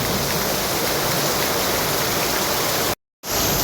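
Steady rain pours down in a dense, even hiss, loud and close, broken by one short gap of silence before resuming as a thunderstorm continues.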